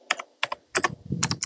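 Fingers type on a computer keyboard in quick, uneven bursts of crisp clicks with short pauses between them, close and alone.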